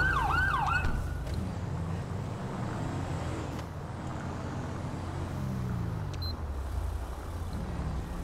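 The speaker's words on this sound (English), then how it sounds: "Turn off the siren." A police car siren in GTA V with the LSPDFR mod wails in rising and falling sweeps at first, then cuts off, leaving a steady engine drone and ambient traffic rumble.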